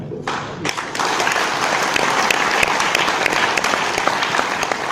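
An audience at a motivational seminar breaks into loud, sustained clapping that starts abruptly and continues as a dense, even wash of applause.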